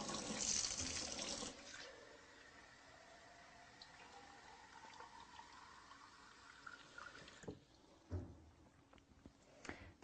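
Water from a hillside spring flows by gravity pressure out of a faucet, running steadily and softly for several seconds after an initial louder gush, followed by a few faint knocks and clatters.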